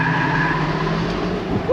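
A 2024 GMC Hummer EV launches hard from 0 to 60 mph, a loud sustained rising whine with rumbling tire and road noise that builds steadily, heard from inside the cabin.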